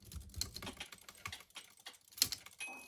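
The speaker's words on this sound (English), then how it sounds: "I'm moving with a literal freaking typewriter" Typewriter keys struck one after another while playing a game, a quick uneven run of sharp mechanical clacks close up, with a brighter ding-like strike partway through.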